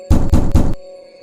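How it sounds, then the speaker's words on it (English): Three heavy, closely spaced knocks thud against a car's passenger window, loud and near, then quiet follows. "The tapping followed us, always on the passenger window, always keeping pace."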